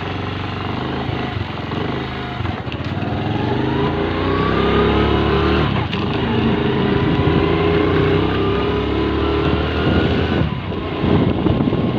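A broken-down motorcycle undergoing repair by a mechanic, its engine running steadily and revving up and down for several seconds, loud and close with no talk over it.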